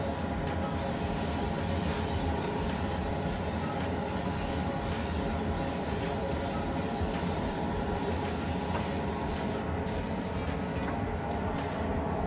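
Airbrush spraying a light tack coat of paint onto an RC car body, a continuous close hiss of air and atomised paint that stays steady throughout.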